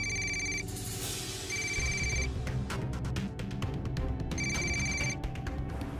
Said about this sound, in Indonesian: Papa angkat telepon dulu ya.